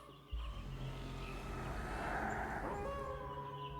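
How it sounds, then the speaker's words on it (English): Huge, monstrous wolves howl at the moon in a forest clearing as an audio drama effect, a sustained chorus of overlapping howls that swells and lingers over a low steady rumble. "Around me, there were wolves, huge, monstrous wolves howling at the moon."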